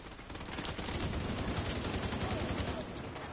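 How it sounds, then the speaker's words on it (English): Rapid automatic fire from a deployable fire turret in The Division 2, a dense, continuous rattle of shots close by that holds steady for several seconds amid battle noise. "That fire turret's helping out."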